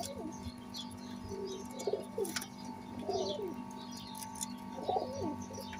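Pakistani high-flying pigeons coo in several soft, throaty bursts spaced a second or so apart, close by, over a steady low hum and faint background chirps.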